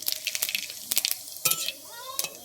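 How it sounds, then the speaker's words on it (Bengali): Whole cumin seeds hit hot oil in a pan and sizzle with a steady crackling hiss, broken by a few sharp clinks of a utensil against the pan. "আমার তেলটা গরম হয়ে গেছে আমি এর মধ্যে দিয়ে দিচ্ছি গোটা জিরে"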